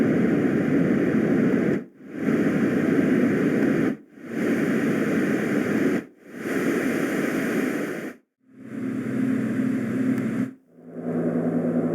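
A LectroFan Evo white noise machine produces steady, loud broadband noise in repeated segments of about two seconds separated by short gaps, with the last bursts taking on a slightly different tonal color.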